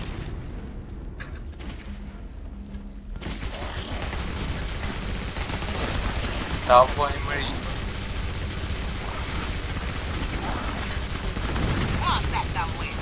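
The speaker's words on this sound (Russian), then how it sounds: "Вот это выстрел." Gunfire rattles steadily in the first-person shooter video game Clive Barker's Jericho, with a dense battle din and one sharper shot bursting out midway. Someone speaks briefly over the action.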